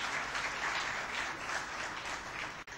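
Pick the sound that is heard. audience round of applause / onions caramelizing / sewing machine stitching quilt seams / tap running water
audience round of applause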